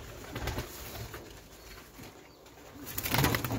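Pigeons in a loft coo softly at close range, several low coos rising and falling over faint background noise, with a louder burst near the end.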